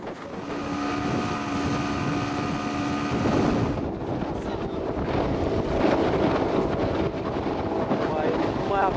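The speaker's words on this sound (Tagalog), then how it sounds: "Dahil sa laki ng mga alon, mas bumagal pa ang takbo ng Jungkon." A jungkong outrigger boat ploughs slowly through big waves on a sea crossing from Bunggao in rain, its engine humming steadily under heavy wind buffeting and rushing water, loud and close throughout.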